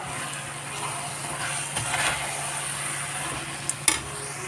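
Onion masala with chilli powder and turmeric sautéing in a pan for chicken biryani, a soft continuous sizzle with a few sharp clinks of a spoon against the pan near the end.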